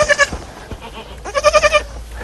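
Goats or sheep raised on pasture grass at a farm near Nanjing bleat loudly and close by, a few short cries early on followed by a quick run of wavering bleats.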